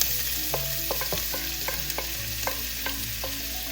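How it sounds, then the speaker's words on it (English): Ginger, onions and garlic frying in a pan with steady sizzling, broken up by several sharp scraping stir strokes spaced through the stretch; close and fairly loud, with no voices. "We'll start adding our aromatics here, the ginger, onions,"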